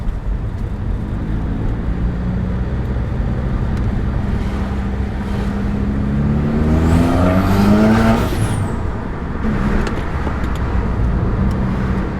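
A car cruising in second gear, engine droning steadily from the cabin with a low rising tone as it pulls, road noise underneath and no talking.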